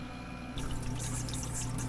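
Water pours steadily over the tray of a countertop ice maker running with its compressor on. The soft, continuous trickling and splashing begins abruptly a moment in and stays close and even throughout.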